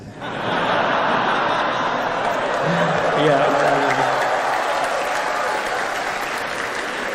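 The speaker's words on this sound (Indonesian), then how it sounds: "Kenapa tepuk tangan nih?" An audience at an Indonesian lecture bursts into sustained applause that fills the whole stretch, dense and steady, with scattered chuckles and laughter mixed in.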